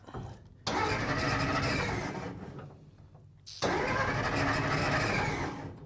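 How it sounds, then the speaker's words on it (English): An old Plymouth car's engine, sitting unused for 30 years, is cranked over, catches and runs roughly. It then cuts out and is cranked again to a second loud start, heard close up. "Can you push the clutch in and start it"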